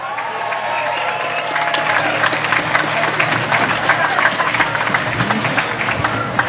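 A lively crowd at the Sapolin Awards at Gracie Mansion applauds Mayor Bill de Blasio, with close, steady clapping and some cheering that swells and carries on for several seconds.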